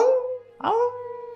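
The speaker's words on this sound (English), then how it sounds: "you do hear a howl in the distance" A drawn-out wavering dog-like howl sounds as a tabletop role-playing game sound effect, rising and then holding steady, fairly clear and not overly distant.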